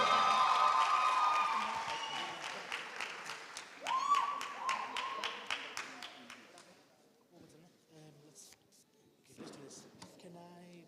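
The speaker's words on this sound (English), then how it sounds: "Let's give him a big round of applause." Audience applause for Abner Marire at a motivation series event on a campus, a dense crowd clapping with some cheering, fading out midway, followed by sparse claps and room noise.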